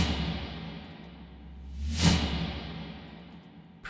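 Reversed snare layered with a tambourine, a soft swell of noisy hiss building to a peak and then trailing away over a low hum, faint and brief.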